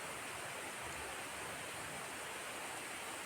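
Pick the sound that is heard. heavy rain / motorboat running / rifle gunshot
heavy rain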